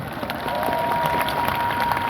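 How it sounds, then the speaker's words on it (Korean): A church congregation gives a short burst of clapping, a brisk patter of many hands at moderate loudness with a faint murmur of voices. "하나님께 영광의 박수"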